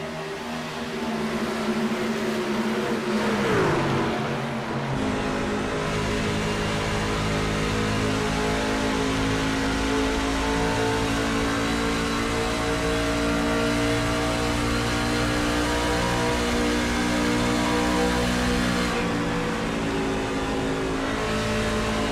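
Truck series race at Charlotte: several race truck engines roar and rev continuously at high pitch, loud and close, with a sweeping pass early on and sustained full-throttle drone throughout.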